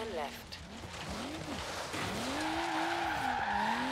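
Tires squeal and skid through a handbrake drift in Forza Horizon 3, with rising and falling screeches over a steady engine drone, close and loud, while a voice talks over parts of it.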